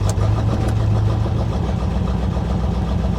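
A Greenwood C4 Corvette engine idles roughly and loudly up close, a steady uneven rumble with a low-pitched drone that never settles, and no voices over it.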